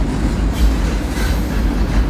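Freight train carrying loads of railroad ties rolling past at close range, a steady, loud rumble of wheels and cars with faint clatter and no pauses across the whole stretch.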